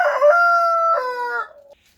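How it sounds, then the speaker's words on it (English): A pasture-raised rooster crows loudly and close by, one long cock-a-doodle-doo with a rising second phrase that trails off, with no talking over it. "We have freaking pasture raised chickens out here, pasture raised"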